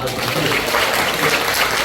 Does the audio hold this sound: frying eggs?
no